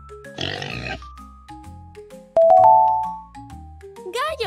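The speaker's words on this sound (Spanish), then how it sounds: "¡Cerdo!" A farm pig gives a short grunting oink early on, loud and close. It sits among bright musical chimes and a brief voice near the end.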